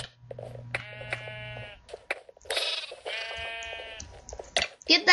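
Blocky Minecraft sheep on a Mineplex server give two loud, close, wavering bleats, separated by short gaps of quiet and small game clicks.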